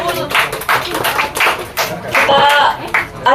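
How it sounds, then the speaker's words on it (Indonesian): Close, loud clapping from a small group at a youth political discussion, irregular and mixed with crowd noise and bits of voices. "terima kasih tepuk tangan untuk Aul."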